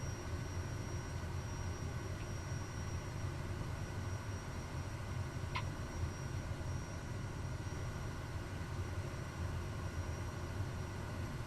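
Kodiak 100 turboprop aircraft taxiing in a flight simulator game, a constant low engine drone and propeller hum, steady and unchanging at moderate level.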